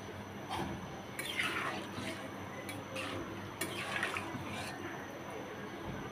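Water is poured into a pot of ridge gourd and rohu fish curry cooking on high heat. It makes a faint, steady trickling splash with soft intermittent drips, and a voice is heard quietly in the background.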